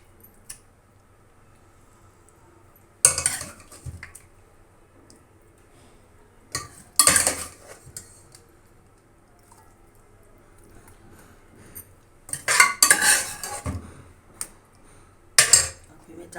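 A spoon clinks and scrapes against a pot while a masala layer is spread for mutton biryani, several short bursts of metallic clatter close up, separated by quiet gaps.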